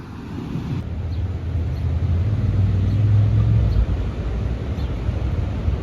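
Strong wind roars steadily against the microphone at a beach, a low rumbling gust that swells and eases, with no voices.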